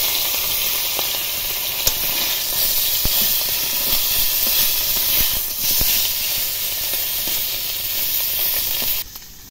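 Fish rubbed with salt and turmeric frying in hot oil in a wok, a loud continuous hiss and sizzle with scattered crackling pops throughout.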